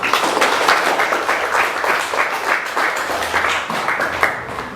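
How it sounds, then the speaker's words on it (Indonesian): A crowd applauds at a religious learning session, with dense, steady clapping that stays loud from start to finish. "Ya, aplaus buat kita semua."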